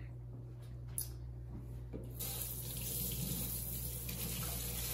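A kitchen tap runs while hands are washed during cookie bar baking; after a quiet start with a couple of small knocks, the water gushes on abruptly and keeps flowing steadily.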